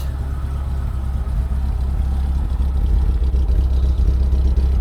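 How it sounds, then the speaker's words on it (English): A Jeep Comanche pickup, left sitting for a long stretch, idles roughly on a cold day of about 40 degrees. The engine holds a steady, loud, close low rumble with faint uneven clatter and no voices. "She's running a little rough, but she's been sitting for a while."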